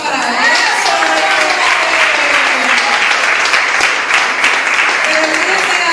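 Steady, loud audience applause fills a cardiology talk hall, a dense clapping crowd sustained evenly throughout with no break.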